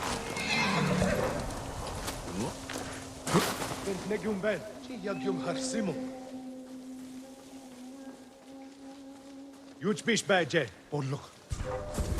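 A horse in the Ghost of Tsushima video game whinnies and snorts while hooves clip-clop in bursts, loud and close, with someone talking over parts of it.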